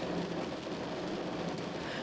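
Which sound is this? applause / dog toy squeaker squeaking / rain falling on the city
rain falling on the city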